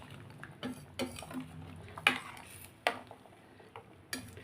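Mutton curry being stirred in a cooking pot with a metal spoon, a series of soft scrapes and a few sharp metallic clinks against the pot, over a quiet background.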